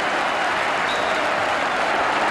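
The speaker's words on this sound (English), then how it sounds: "he's getting some tremendous applause" Loud, sustained applause from a football crowd in a stadium at a 1982 FA Cup sixth-round tie between Leicester City and Shrewsbury, a continuous roar of clapping with no break.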